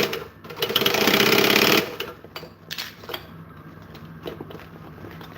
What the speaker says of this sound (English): We're going to finish sewing all the way around